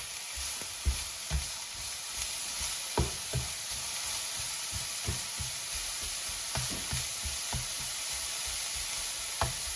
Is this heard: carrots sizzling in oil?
yes